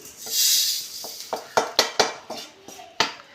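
A kadai pan is set on the stove with a string of sharp metallic clanks and scrapes, about eight distinct knocks following a soft rushing sound at the start, close and clear with no talking.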